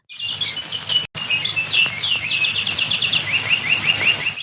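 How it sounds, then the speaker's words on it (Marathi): Birds chirp loudly and continuously in a dense chorus of quick, high twittering calls, with one brief dropout and a faint low rumble underneath. "पक्ष्यांची किलबिल"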